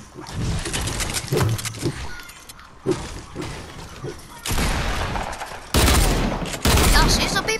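Fortnite gunfire arrives in loud, dense bursts of shots and impacts, with the heaviest blasts crowding the last few seconds, under some background talk.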